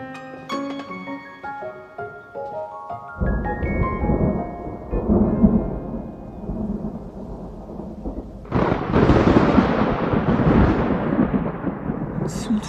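Sudden thunder cracks in and rolls loudly over an outdoor scene, first as a deep rumbling swell and then as a sharper, heavier burst with a rain-like hiss near the end, heard with no speech.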